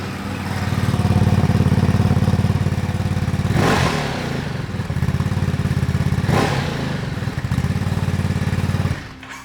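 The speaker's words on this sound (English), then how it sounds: "let's listen to the exhaust note of the motorcycle." Ducati DesertX Rally motorcycle in a closed space, its loud, throbbing exhaust idling steadily and then sharply revved twice in quick blips before settling back to a rumbling idle.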